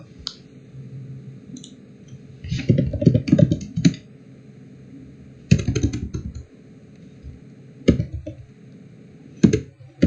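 Bursts of close computer keyboard typing, clicky keys struck in quick uneven clusters separated by short pauses, with a quiet background hum and no one speaking.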